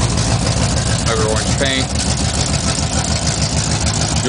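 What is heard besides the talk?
1970 Buick Skylark GS engine idling with throaty dual exhaust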